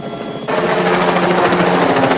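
A voice imitates a helicopter or aircraft engine with a loud, close, rhythmic chopping drone. It starts abruptly after a brief quieter moment and continues steadily to the end.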